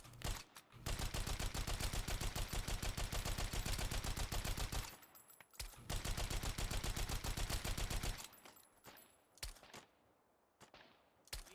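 Rapid automatic fire from a .308 Sten gun in the H3VR virtual reality game, two long loud close bursts of evenly spaced shots separated by a short pause, followed by a few scattered single clicks and clatters.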